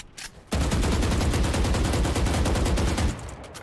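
Valorant gunfire, with a sustained rapid automatic burst of evenly spaced loud shots lasting about two and a half seconds after a couple of quieter shots.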